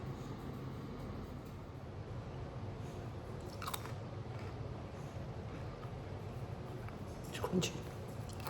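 Crunchy freeze-dried hog plum being bitten and chewed close by, a few faint crisp crunches over a low steady background hum.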